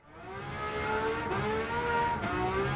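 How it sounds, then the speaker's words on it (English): A V12 car with blue titanium exhaust tips, sounding like an old Formula 1 car, revs loud and close, its rising and falling engine tones held steady for a few seconds with no talk. "It just sounds like an old F1 car."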